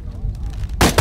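Gunfire in the Shadow of the Tomb Raider video game: a loud, sharp burst of shots erupts near the end of a short stretch of low rumbling game ambience.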